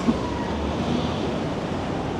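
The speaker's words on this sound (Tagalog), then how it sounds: "Pagkalalakas ng alon dito." Strong waves break steadily against an island shore in the Maldives, a continuous broad rushing wash mixed with wind noise, with no talking.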